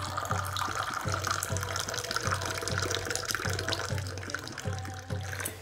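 Moroccan mint tea poured from a teapot into a glass, a continuous splashing liquid stream close by with a faint repeating low gurgle, steady and fairly loud throughout.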